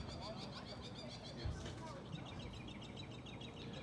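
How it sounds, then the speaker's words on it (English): Birds chirp and tweet in repeated quick bursts outdoors at a ballpark during an evening baseball game, moderately loud over steady crowd and broadcast ambience. "The birds are chirping tonight."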